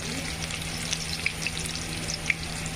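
Garlic and curry leaves fry in hot oil in a pan with a steady, close sizzle and a few sharp pops, continuous and unaccompanied by speech.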